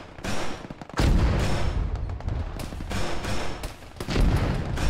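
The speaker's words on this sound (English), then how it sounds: "Someone shooting across us from the south" Gunfire in the Arma military shooter: repeated cracks and heavy booming shots, some in quick clusters and some spaced apart, fairly close and loud, with echoing reports.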